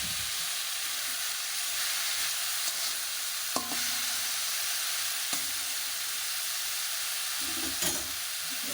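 Gima greens frying in a pan with turmeric, green chilli and chilli powder give a steady, close sizzle, broken by a few sharp clinks of stirring.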